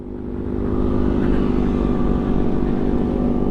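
A steady, loud engine drone from a Yamaha Alfa 2R motorcycle being ridden, rising in the first half-second then holding, with constant wind and road rumble and no talking.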